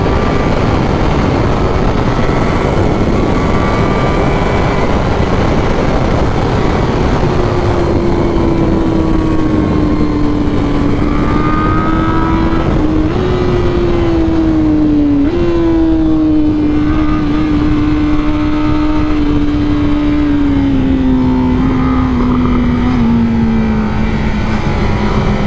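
A 2021 Honda CBR1000RR-R Fireblade SP motorcycle accelerates hard on a racetrack, its loud, steady engine note climbing and dipping through gear changes with no pauses and no talking.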